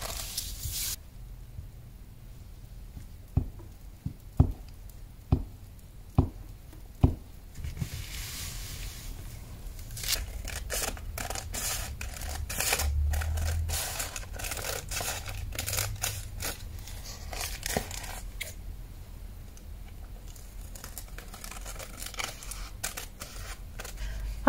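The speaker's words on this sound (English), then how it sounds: "then I'm going to trim it around the edge" Scissors trim glued-down paper around the edge of a musical-themed junk journal page, giving a run of crisp snips and rustles, with several sharp clicks early on and steady crinkling after.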